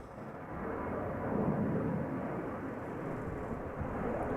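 A Transavia airliner takes off at Amsterdam Schiphol, its engines a steady, distant broadband roar that swells slightly and holds for a few seconds with no voices over it.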